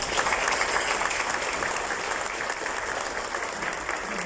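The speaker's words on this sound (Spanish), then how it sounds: "Ellos merecen un fuerte aplauso." Steady, dense applause from an audience at a corporate ceremony for Stewart Corporation's ISO certifications, a continuous wash of many hands clapping at even loudness with no voices heard above it.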